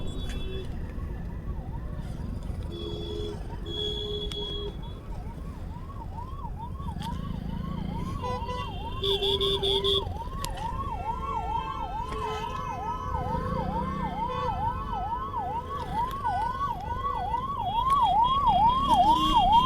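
An ambulance stuck in heavy road traffic sounds its siren in fast, repeated sweeping whoops. The siren grows louder toward the end over a constant rumble of surrounding vehicles.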